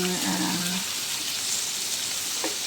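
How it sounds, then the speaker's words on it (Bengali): Whole garam masala spices, onion and garlic sizzle in hot oil in a wok, making a steady close hiss that carries through the short moment, with a brief voice near the start. "তেজপাতা শুকনো মরিচ এবং গোটা জিরা দিয়ে তেলে ফোড়ন দিয়ে"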